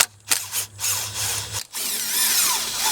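Power driver with a 5.5mm socket loosening hose clamps on a Honda Pilot intake pipe, two short whirring bursts separated by a brief pause, close and fairly loud, with no talking.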